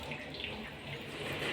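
Water pours steadily into a blender jar holding pomegranate seeds, chopped beetroot, sugar and black salt, a continuous close splashing rush with no talk.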